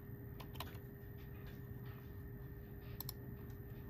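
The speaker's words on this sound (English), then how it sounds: "And I'm just going to type Dojo." Fingers type briskly on a computer keyboard, producing a few clustered clicks over a steady low room hum, with a brief quiet spell between bursts and no talking.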